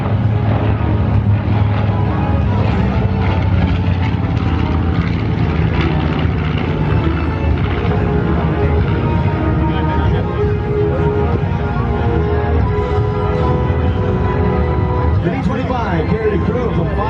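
A loud, rumbling propeller drone from a B-25 Mitchell bomber with two 14-cylinder Wright R-2600 Cyclone radial engines persists throughout at an airshow, steady and heavy, with a voice talking underneath.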